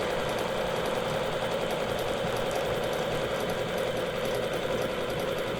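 Sewing machine stitching continuously while quilting with a Westalee ruler, a fast, even mechanical whir and needle chatter holding steady throughout.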